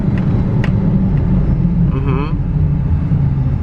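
Car rolling along a road during a brake test after tie rod end replacement: a steady loud low rumble of tires and engine throughout, with a brief rising whine midway and a couple of faint clicks.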